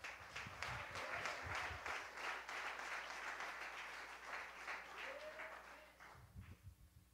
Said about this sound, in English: Clap your hands one more time to the Lord.